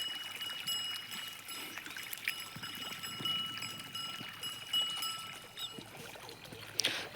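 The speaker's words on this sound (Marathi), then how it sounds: "आता पाणी चालू आहे पाणी आता दुसऱ्या लाईनवर लावले" Irrigation water runs steadily along a farm field channel, a continuous outdoor trickling and flowing wash with faint rural background noise and no talk.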